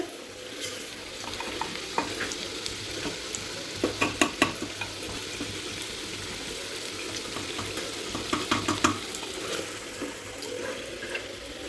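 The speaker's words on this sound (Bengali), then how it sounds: "মাটন কষা হচ্ছে।" Mutton sizzles in a pan under scraping and stirring, with a few louder clatters of a spoon against the pan in the middle.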